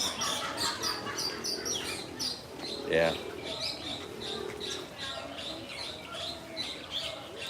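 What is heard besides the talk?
birds calling at Disney's Animal Kingdom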